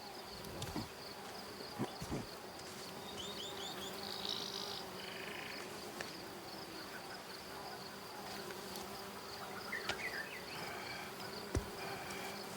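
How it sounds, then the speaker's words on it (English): Flies buzz steadily over dead meat in the game Ancestors: The Humankind Odyssey, a continuous insect drone filling the scene, with a few faint bird calls and small clicks scattered around it. "it's flies over the dead meat, I think."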